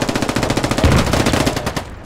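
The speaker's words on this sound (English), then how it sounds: "enemy mortar strike is not over yet" A rapid, loud run of explosions from an enemy mortar strike in the military shooter Squad, with dense rhythmic blasts hammering in close succession before thinning out.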